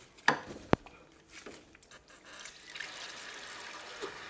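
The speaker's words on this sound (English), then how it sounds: "now I'm going to give it a good rinse into tap water" Tap water rinses a cyanotype print, opening with two sharp knocks as it is handled, then a soft, close trickle and splash that builds steadily and keeps running.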